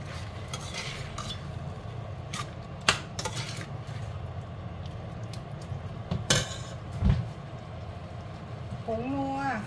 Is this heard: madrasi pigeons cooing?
no